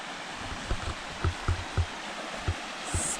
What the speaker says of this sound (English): Splashing against the rocks.